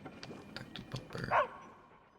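A dog in the video game Palia, out walking with its owner, lets out a handful of short yips and barks followed by a louder whining whimper, then quiet.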